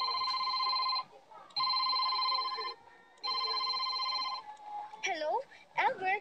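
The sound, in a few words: telephone busy signal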